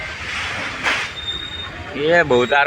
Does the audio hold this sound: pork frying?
no